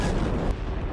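A missile blast in wartime news footage from the Russia–Ukraine war, a stray missile falling in Poland: a dense, rumbling boom with a low roar that fills the whole second without letting up, loud and close.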